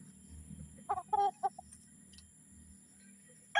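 Fighting chickens, including a sweater-possum cross, cluck in a short burst of calls over a quiet background, followed by a louder squawk at the end.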